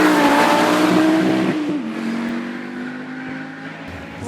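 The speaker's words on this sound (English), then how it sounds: "Here's his flame-spitting Dialinx Audi Quattro in high-speed action on Shelsea's hallowed tarmac." Keith Edwards' flame-spitting Dialinx Audi Quattro hillclimb car races at high speed on the Shelsley tarmac. Its engine screams loudly, shifts gear and then fades as it draws away.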